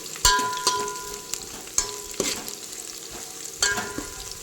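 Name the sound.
soya chunk pulao frying in a pan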